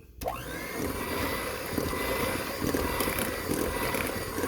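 An electric mixer whirs steadily as flour is blended into batter for orange bars with caramel glaze, a loud continuous motor drone running from start to end with no talking.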